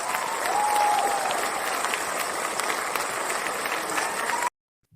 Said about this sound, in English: I'm just going to give you a round of applause for that outstanding founder journey advice.